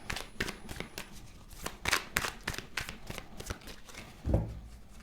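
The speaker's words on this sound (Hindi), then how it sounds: "हफ्ते के हर दिन के हिसाब से कार्ड ड्रॉ करेंगे" Tarot cards are shuffled and drawn by hand in a quiet room, giving a rapid series of crisp riffling flicks and slaps with a soft thump near the end and no voices.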